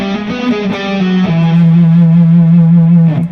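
Distorted electric guitar plays a bluesy scale run, notes stepping and sustaining loudly with thick overdrive and slight echo, alone without speech.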